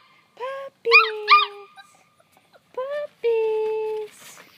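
Puppies whimpering and yipping close by in short high whiny bursts, some drawn into longer squeals, with quiet gaps between them.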